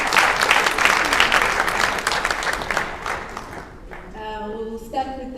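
An audience at a sports awards ceremony claps loudly and steadily, then the applause fades out over the last seconds as music or voices emerge.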